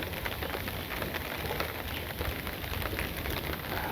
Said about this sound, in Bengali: এই যে বৃষ্টি এখন একটু কমলো